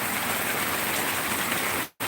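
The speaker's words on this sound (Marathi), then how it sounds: "खूप जोरात पाऊस चालू आहे" Heavy rain pours down in a dense, continuous roar of drops hitting surfaces, loud and close, cutting off abruptly near the end.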